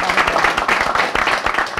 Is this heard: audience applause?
yes